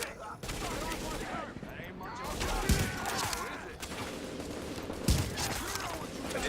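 An M700 rifle fires in a Tom Clancy's The Division firefight, a couple of sharp, punchy shots standing out over a steady backdrop of distant gunfire and battle noise, while someone talks throughout.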